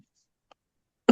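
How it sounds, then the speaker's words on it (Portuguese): One short, rough throat clearing from a man with reflux comes abruptly after near silence, close to the microphone and loud. "Desculpe os pigarros aqui, é que eu tô com problema de refluxo"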